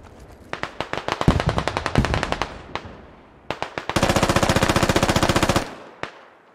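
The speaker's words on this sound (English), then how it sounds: "I'm just suppressing the way I heard the AK." Automatic gunfire from the military shooter game Squad, with rapid suppressive bursts of rifle fire, a sharp staccato series early on and then a long, dense continuous burst near the end, loud and close with no talk.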